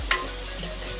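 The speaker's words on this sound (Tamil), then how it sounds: "சின்ன வெங்காயத்தை நல்லா வதக்கணும்" Small onions sautéing in a pan for a Tamil anchovy fish curry, giving a steady low sizzle with a brief stirring scrape near the start, close and fairly quiet with no talking.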